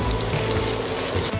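Onions frying in a pot for bitter gourd curry, a steady close sizzle with faint stirring scrapes throughout, no voice.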